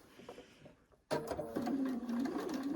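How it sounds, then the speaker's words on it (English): A sewing machine starts up abruptly and runs steadily, whirring as it stitches quilt fabric nearby. The whir is loud and continuous after a quiet start. "I'm going to go to the sewing machine."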